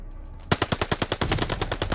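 An MP 40 submachine gun fires in Call of Duty Vanguard, a silenced first moment giving way to a rapid, loud burst of evenly spaced shots that runs for over a second.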